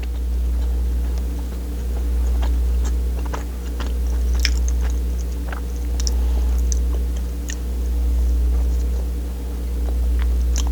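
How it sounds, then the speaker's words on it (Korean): Someone eats a Starbucks triple cheese bagel, the bread giving soft, repeated bites and chewing close to the mic over a steady low hum, with no talking. "집에 우유가 남아 있었어서 빵이랑 우유 먹어볼게요"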